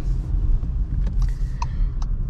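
A 2022 VW Polo Life with a 1.0 TSI 95 hp engine and five-speed gearbox pulls away at night, giving a steady low engine rumble heard from inside the cabin, with a few light clicks over it.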